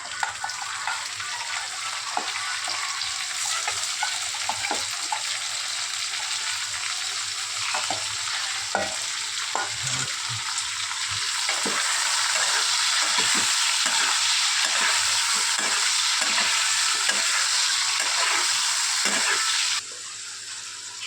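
Tomatoes fry in a hot pan with a steady, bright sizzle while a utensil stirs and scrapes through them in scattered clicks; the hiss carries on loud and close for the whole stretch, easing slightly at the very end.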